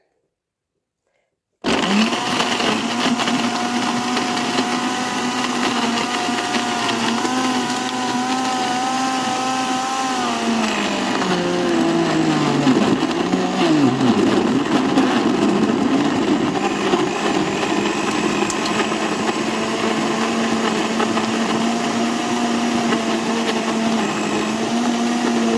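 After a second of silence, a kitchen blender kicks in and whirs loudly and continuously while grinding avocado and cucumber, its pitch dipping and wavering midway as the contents churn, with no talking over the motor.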